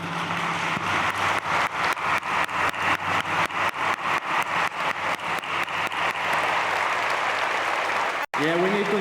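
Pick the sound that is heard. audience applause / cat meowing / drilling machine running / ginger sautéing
audience applause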